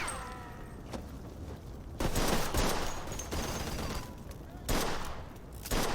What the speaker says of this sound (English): We're shooting a way out.